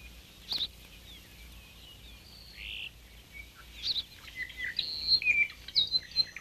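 Birds in a Hawaiian forest give scattered high chirps and short tweets, faint at first and then busier toward the end, over a quiet background with no talk.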